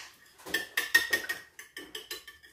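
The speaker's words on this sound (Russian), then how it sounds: "Размешиваю." Salted eggs are stirred in a bowl with a utensil, producing a run of sharp clinking taps against the rim, close and moderately loud, then a few quieter strokes.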